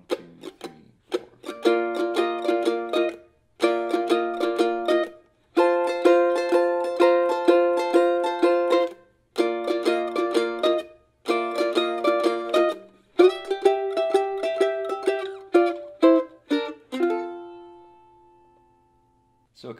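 A solo mandolin plays the swung B part of a tune in quick, bright picked phrases separated by short pauses, closing on a final strummed chord that rings and decays, recorded close up.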